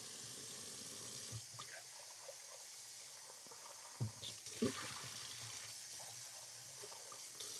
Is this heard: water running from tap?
yes